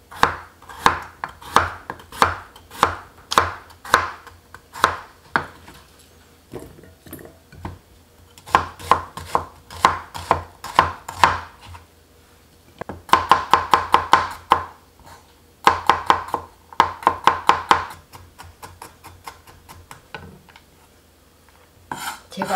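A knife cuts large potatoes into quarters on a board, sharp close chops in quick bursts separated by short pauses, with no talk.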